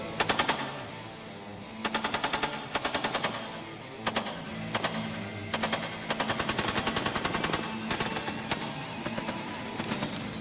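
An M240 Bravo 7.62 mm machine gun fires in repeated loud automatic bursts of sharp rapid shots, separated by brief pauses, with one longer sustained burst in the middle.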